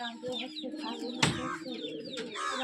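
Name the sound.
pigeons cooing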